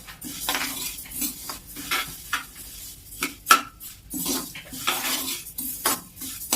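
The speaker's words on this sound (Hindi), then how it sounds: "तो सबसे पहले हम अलसी को भून लेते हैं।" Flaxseeds dry roast in a pan, heard as a series of close metallic scrapes and clinks as a spatula stirs them, with a few quiet gaps between strokes.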